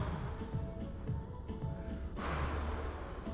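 An exercise instructor demonstrates a forceful breath: a long, rough exhale close to the microphone, with a stronger push of air near the end.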